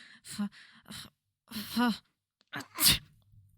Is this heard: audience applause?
no